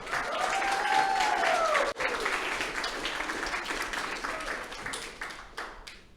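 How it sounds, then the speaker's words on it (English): Audience at the 2023 UK GradResearch Live! event applauding, sustained clapping with a whooping cheer early on, thinning out toward the end. "So give them another round of applause just for that."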